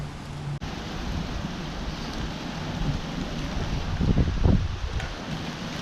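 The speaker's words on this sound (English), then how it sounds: "it went from barely raining to a downpour" Heavy downpour during a supercell thunderstorm under a warning, a steady dense hiss of rain with wind rushing over it, swelling louder near the end as the storm intensifies.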